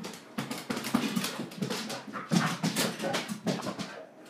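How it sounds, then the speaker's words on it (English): A dog runs around indoors playing with her tennis ball, heard as steady, busy scuffling and thumping close by, with no barking and no talk. "If you can hear my dog running around playing with her tennis ball"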